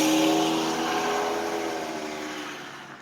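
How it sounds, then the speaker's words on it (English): A car drives past on a busy road, its engine and tire noise loud at first and slowly fading as it moves away, with no voices. "I gotta stop recording where there's so much traffic"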